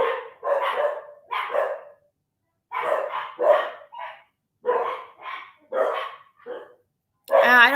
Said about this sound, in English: likes to get the dogs all riled up